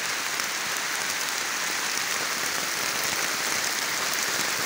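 Heavy rain pours in a dense, constant hiss with no pauses, loud and close throughout. There is no talk.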